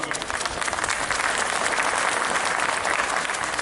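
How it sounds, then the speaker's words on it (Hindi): An audience claps at a cycle rally reception for honoured guests, a dense, steady burst of applause throughout, loud and without speech. "सभी से अनुरोध है ताली बजा करके सम्मानियों का"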